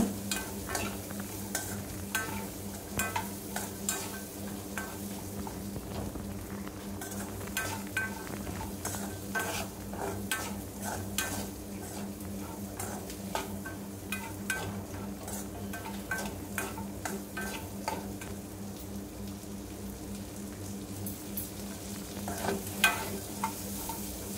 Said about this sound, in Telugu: అంతవరకు ఫ్రై చేసుకోవాలి.